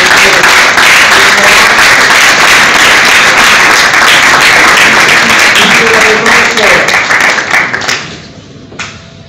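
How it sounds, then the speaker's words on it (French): Loud, sustained crowd applause for an award recipient at an artists' trophy ceremony, dense clapping with faint voices underneath that tapers off and fades out near the end. "Sous nos applaudissements"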